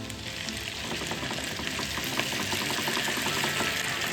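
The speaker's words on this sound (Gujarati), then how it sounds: "એક મિનિટ છે ને બટેટા સતરાઈ જાય, બાફેલા જ બટેટા છે" Boiled potatoes fry in a pan for sago khichdi, giving a steady, close sizzle with faint stirring scrapes that builds slightly toward the end.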